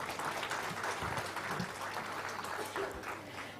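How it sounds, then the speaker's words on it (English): Applause from a summit audience welcoming a panelist at a food regulators' conference: a steady, fairly faint wash of many hands clapping that continues through the whole stretch without talk on top. "Can we have a round of applause for sir?"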